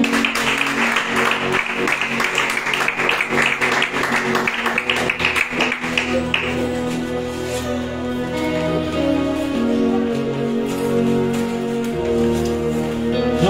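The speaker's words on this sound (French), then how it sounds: "Nous les encourageons par nos acclamations." Congregation applause and cheering during a Sunday church service, dense clapping filling the first half and then giving way to sustained music or singing.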